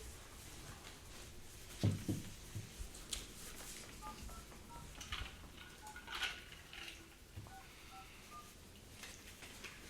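A telephone keypad is dialed during a water association meeting, producing a series of short, faint tone beeps spread across several seconds, with light clatter and rustling in a quiet room.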